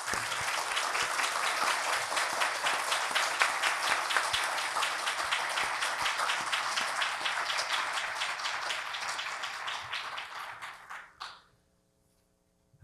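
Audience applause after a world premiere performance at an interfaith Holocaust memorial service, dense steady clapping for about ten seconds that thins and fades out, followed by quiet.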